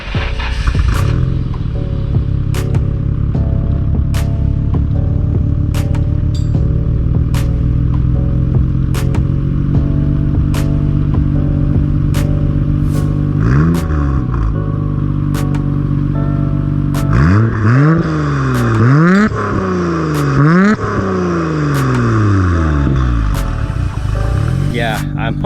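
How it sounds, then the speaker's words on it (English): A Nissan R32 GTR engine idles loudly and steadily, then is revved repeatedly toward the end in a series of rising and falling sweeps, close and continuous, with sharp clicks scattered throughout. "Let me rev it for you guys so you guys can hear it"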